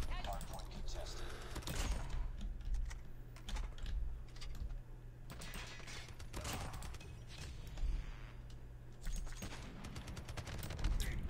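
Gunfire from a Call of Duty Mobile Hardpoint match plays as a fast, dense series of sharp, clicky shots in irregular bursts throughout, close and steady in level.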